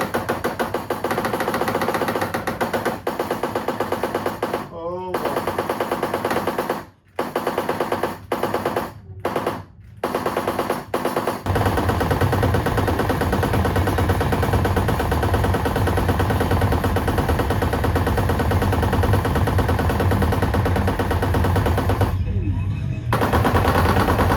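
Jurassic Park edition bar-top arcade light gun firing with recoil, a rapid mechanical rattle of thumps running continuously with a few brief pauses, loud and close, over game sound effects.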